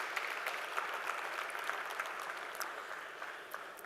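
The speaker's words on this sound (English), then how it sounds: "Can I have a strong round of applause for Mr. Jitendra, please?" A conference audience applauds, steady crackling claps spread across a large hall at moderate distance, even and unbroken for several seconds with a few sharper individual claps standing out.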